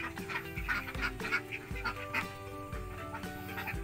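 Laying ducks on a duck farm quack over and over in a dense, overlapping flock chorus, with nasal calls coming close and steady throughout.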